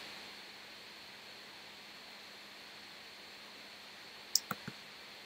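A computer mouse clicks a few times near the end while rocket design software is used, three short sharp clicks close together over a steady faint hum.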